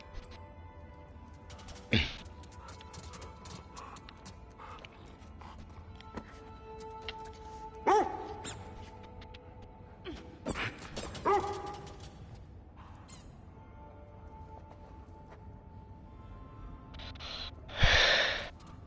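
Dogs in the video game The Last of Us Part II Remastered give scattered, fairly distant barks and yips at intervals over a quiet game ambience, with one sharper cluster near the end.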